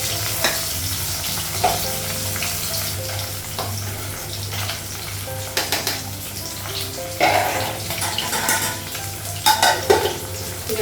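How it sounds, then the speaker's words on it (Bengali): Fish frying in oil in a pan on a gas stove, a steady close sizzle with occasional louder spatters and stirring scrapes throughout. "মাছটা ভাজা হয়ে গেছে মাছটা উঠে দিতে গ্যাসটা কমানো"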